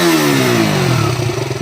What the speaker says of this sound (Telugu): ఇంజిన్ వైబ్రేషన్ అండి, చూపిస్తాను చూడండి